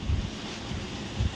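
Gusts of wind from a nearby rainstorm buffet the microphone in low, rumbling bursts, a steady outdoor rush with two stronger thumps at the start and end.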